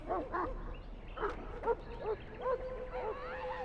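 A Mabari warhound in Dragon Age: Origins gives a series of short yips, whimpers and barks, five or six close, clear calls spread across a few seconds.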